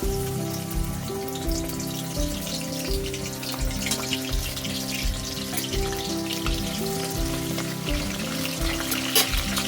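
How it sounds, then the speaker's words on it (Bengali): Chopped garlic tossed into hot oil, about 200 grams of oil heated for a kilo of chili chicken, crackles and sizzles steadily and densely from start to finish, close and fairly loud, with no talking. "তেল গরম হয়ে গেছে, এবার আমি রসুন কুচি দিয়ে দিলাম।"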